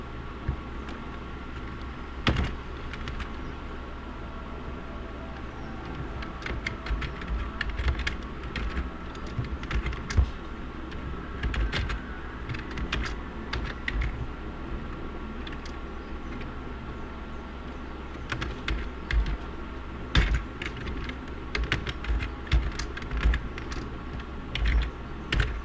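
Steady typing on a computer keyboard while a SQL query is entered, with irregular clusters of keystrokes carrying on throughout, fairly close and alone, with no voices.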